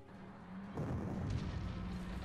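Artillery fire in the Panzer Corps Gold strategy game, set in the Soviet campaign at Khalkhin Gol, arrives as a muffled, low rumbling boom that rolls on steadily after a sudden onset, heard alone without talk.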